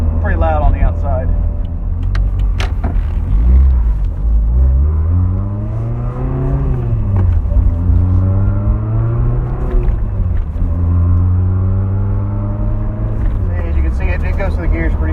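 A 1989 Toyota MR2 Supercharged drives through a neighborhood, its loud engine droning steadily from inside the cabin and rising and falling in pitch through the gears, with someone talking over it.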